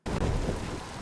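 A burst of heavy rain with a low thunder rumble in a stormy scene from House of the Dragon, loud and dense, starting abruptly and lasting about a second.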